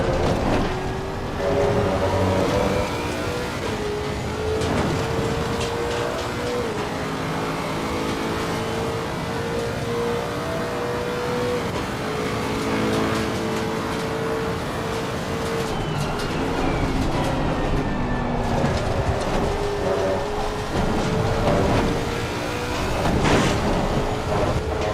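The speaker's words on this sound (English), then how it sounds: "I'm just going to shut up and let you listen to this car" Steady, loud engine drone with rising and falling pitch as gears shift, a video game racing car running continuously at Monza for the whole stretch with no talking.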